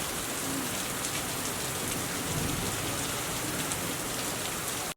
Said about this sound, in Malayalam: സംസ്ഥാനത്ത് അതിശക്തമായ മഴ